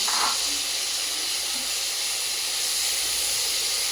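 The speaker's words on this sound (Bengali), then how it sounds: "চিকেনের এখানে একটু করে পানি দিয়ে দিলাম" Frying chicken with rice hissing as a little water is added, a steady, close steamy hiss with a faint clink at the start, continuing evenly throughout.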